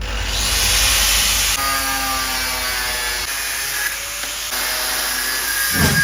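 A loud, continuous power-tool whine with shifting harmonic tones, like a grinder disc biting into metal, running steadily and close up throughout.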